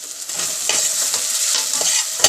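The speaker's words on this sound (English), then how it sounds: "our onion has reduced about half, so we want to still cook it, make it brown, make it leave oil" Onions cook in a pan with a bright, steady sizzle, with several scraping stirs spread across the short stretch and a louder clink near the end.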